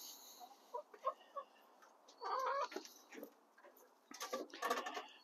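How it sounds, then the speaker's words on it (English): Faint, distant clucks and squawks from chickens, occurring irregularly over soft background noise. "I've got chickens helping me today, too"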